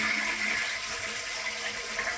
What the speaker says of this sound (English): Flush it as many times as you can until there's not water coming down.